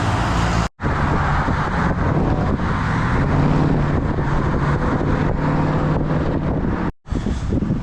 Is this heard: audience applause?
no